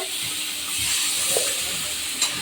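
Food sautéing in an oil-filled pan during home dinner cooking, a steady broadband sizzle and hiss with occasional stirring scrapes and a sharper crackle near the end, close and moderately loud with no talk.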